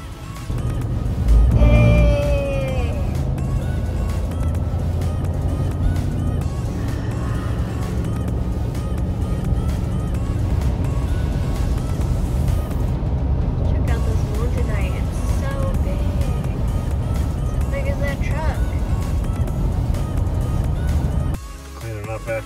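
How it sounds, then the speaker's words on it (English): Steady traffic noise from cars on a highway along a desert scenic drive in Arizona, heard continuously from inside a moving vehicle with people talking over it. "There's a lot of cars."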